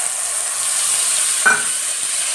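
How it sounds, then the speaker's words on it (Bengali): Grated ginger paste with dried red chili sizzling steadily in hot oil in a home kitchen, a continuous close hiss with one brief scrape or stir partway through. "আদাটাকে আমি তেলে দিয়ে দিলাম"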